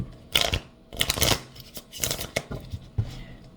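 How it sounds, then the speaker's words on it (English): Tarot cards being shuffled up close in several quick bursts of riffling and slapping, each lasting about half a second, separated by short pauses. "I want to do a shuffle here."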